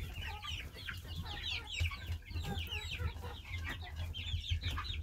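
A young rooster and hens cluck busily in a chicken coop, overlapping chatter and squawks close by, with a short attempted crow in the mix over a low background hum.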